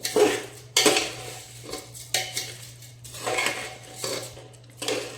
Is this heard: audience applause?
no